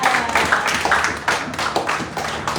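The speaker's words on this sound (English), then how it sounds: "Let's give my boss a big clap." Clapping for a boss at a Liberia Medical Mission press conference, a small group applauding close by with uneven, rhythmic claps at fairly loud level.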